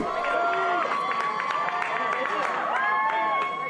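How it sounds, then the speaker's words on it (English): A crowd gathered outside a downtown Baltimore courthouse cheers and applauds as a freed man walks down the steps, a loud sustained roar of voices and clapping with overlapping shouts. "They let him walk down the steps of the courthouse to a cheering crowd"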